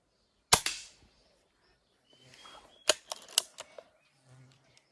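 Hatsan mod. 25 air pistol fired two-handed: one sharp, loud crack first, then after a short pause a quick uneven run of four or five more snappy shots at close range, with no talk.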